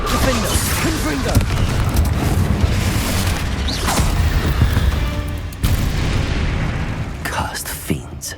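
Confringo and Incendio spell blasts in the Hogwarts Legacy video game boom and crackle in quick succession, loud and close, over battle noise and grunting voices.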